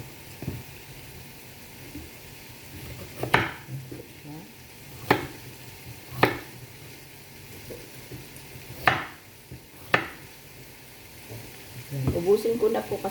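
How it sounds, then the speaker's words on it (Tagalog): Chicken curry with carrots frying and being stirred in a pan, a steady sizzle broken by several sharp scrapes and clanks of the spoon against the pan at irregular intervals, with a busier clatter toward the end. "Yan po siya ang aking niluluto, chicken curry."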